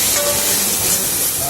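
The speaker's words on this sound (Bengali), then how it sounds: "এবারে আমি সেদ্ধ করে রাখা আমলকিগুলো এর মধ্যে দিয়ে দেব" Boiled amla gooseberries hit hot spiced oil in a pan, giving a loud, steady hiss and crackling sizzle that fills the moment with no voices.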